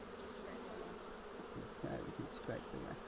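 Honey bees from an open hive hum steadily and close by during a brood inspection, a dense continuous buzz with louder swells of individual bees passing near toward the end.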